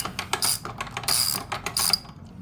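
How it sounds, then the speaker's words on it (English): A ratchet wrench clicks in quick bursts, close and crisp, as it loosens a bolt on the exhaust of a 2024 Kawasaki Ninja 650 fitted with a Yoshimura carbon fiber full system. No one speaks over the clicking. "Now we should be able to loosen this no problem, just like that."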